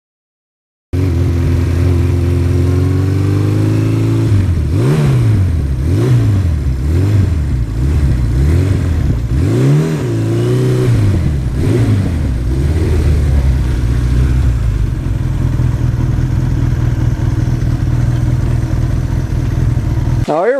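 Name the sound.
Honda Gold Wing motorcycle engine revving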